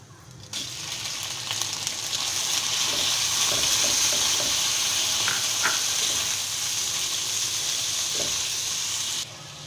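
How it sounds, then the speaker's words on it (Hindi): Chicken pieces dropped into a pan of browned garlic set off a steady loud sizzle with bright steamy hiss, punctuated by a few clinks and stirring scrapes, lasting nearly ten seconds before cutting off. "लहसुन हमारा ब्राउन हो चुका है। अब हम इसमें डालेंगे चिकन।"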